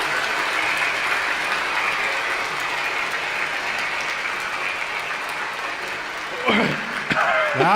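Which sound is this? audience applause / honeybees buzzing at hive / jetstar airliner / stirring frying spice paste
audience applause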